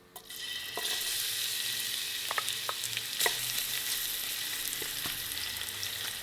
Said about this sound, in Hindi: प्याज को गोल्डन ब्राउन होने तक फ्राई कर लें।